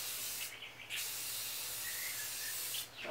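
Aerosol spray paint hisses steadily onto a microwave at close range, one long continuous burst with brief dips where the nozzle is released, and no talking.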